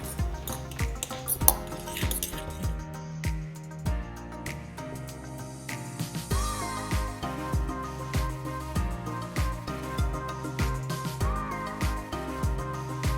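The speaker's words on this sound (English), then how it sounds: "And whisk all the wet ingredients" Wet ingredients for ricotta lemon pancakes are whisked in a bowl, giving a steady rhythm of light metallic clinks and scrapes under soft background music.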